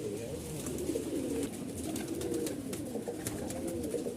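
A white pigeon, one of the Malwai Punjabi and Madrasi birds offered for sale, coos in low, steady, throaty rolls that carry on without a break, close by, with no one talking.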